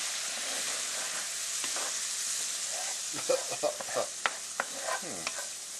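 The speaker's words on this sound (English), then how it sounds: "To deglaze the pan with. Get all the yummies off the bottom of the pan." A hot pan that has been searing stuffed venison backstrap is deglazed with a splash of liquid and gives a steady hiss of sizzling. A spoon then scrapes the bottom in several close strokes, and there is no talking.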